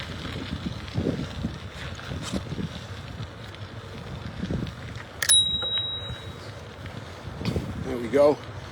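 Bicycle bell on a Huffy ride, rung once in a quick bright ding that stands out over steady wind and road rumble.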